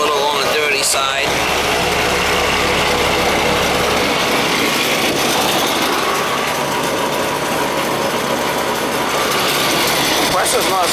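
An old Ruud air conditioner unit runs with a loud, steady, high-pitched mechanical drone that stays constant throughout, with brief clattering near the start.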